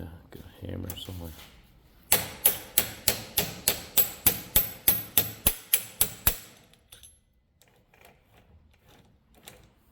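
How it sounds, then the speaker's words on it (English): A hammer taps about fourteen times in a quick, even rhythm during repair of a Stihl weed trimmer, the sharp close knocks ringing out alone after a few murmured words, then falling quiet. "Yeah, got a hammer somewhere."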